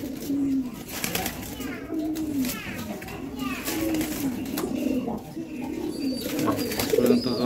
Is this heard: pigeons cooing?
yes